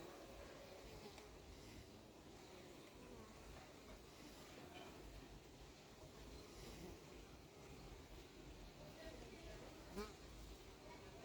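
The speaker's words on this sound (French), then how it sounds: "Il y a une abeille qui me jauge, mais j'ai décidé de ne pas bouger." A honeybee buzzes near a beehive at an apiary, a faint continuous drone in quiet outdoor surroundings with a brief closer pass.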